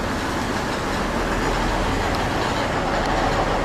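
A modern passenger train bound for Ruse, Bulgaria rumbles steadily and loudly throughout, with a continuous broadband roar and faint clickety-clack from the rails, no voices.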